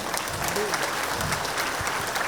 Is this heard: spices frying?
no